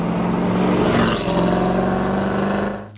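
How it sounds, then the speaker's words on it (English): Engine of a 1974 Pontiac Firebird Trans Am Super Duty 455 muscle car running steadily with a deep, continuous rumble, swelling slightly near the second mark before easing off and cutting out at the end; no voices. "Number 9, the 1974 Pontiac Firebird Trans Am Superduty"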